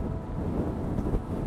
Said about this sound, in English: God, it's so windy.